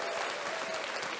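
A short burst of steady clapping from a small group, heard alone without talk, on a podcast.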